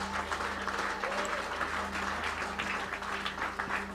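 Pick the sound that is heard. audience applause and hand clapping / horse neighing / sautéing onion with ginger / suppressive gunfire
audience applause and hand clapping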